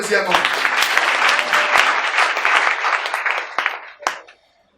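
A church congregation bursts into loud applause and cheering voices at a sermon, a dense sustained roar of clapping that thins out and stops abruptly near the end.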